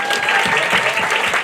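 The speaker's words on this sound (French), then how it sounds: "Alors, quand quelqu'un applaudit, tout le monde applaudit." At an outdoor street comedy show, an audience claps continuously in a dense, close burst of applause that lasts the whole moment without letting up.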